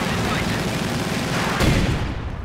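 In the World War II strategy game Company of Heroes 2, battle sounds thunder continuously: Panzerschreck rockets and a tank gun fire amid dense gunfire and explosions, loud and close, with one heavier boom standing out near the end.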